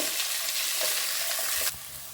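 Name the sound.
onions sautéing in a pan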